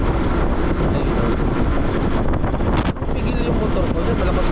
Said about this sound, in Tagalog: pigil yung motor ko dyan, malakas kasi yung hangin.